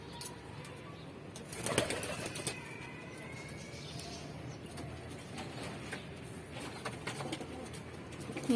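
Pet pigeons in a household loft coo softly and quietly, with a burst of wing flapping early on and scattered low calls throughout.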